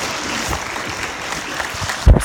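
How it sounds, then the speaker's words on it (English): An audience at a live show presentation applauds in a steady wash of clapping throughout, with a single heavy thump close by near the end. "Please give them a round of applause."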